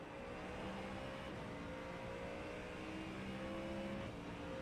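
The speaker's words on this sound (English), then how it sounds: "So here's an overtake I did on someone." Replayed multiclass IMSA race cars in iRacing hum and rev through an overtake. Layered engine tones rise and fall in pitch, fairly quiet and steady, with no voices.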